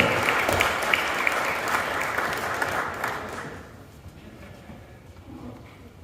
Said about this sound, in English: a big round of applause once again for Jacqueline and Gordon